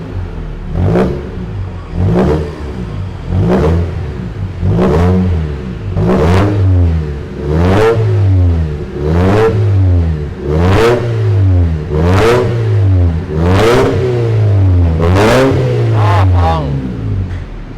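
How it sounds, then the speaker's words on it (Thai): A Mercedes-Benz C200 AMG engine revs again and again in steady bursts, each roar rising and dropping back, loud and close with a deep rumbling dual exhaust. "อ่ะติดเครื่องเลย อ่เบิ้ลหน่อย"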